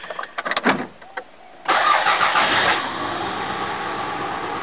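A car engine cranks several times in short bursts, then catches and settles into a rough, uneven idle as if only two cylinders are firing, running steadily to the end with no voices.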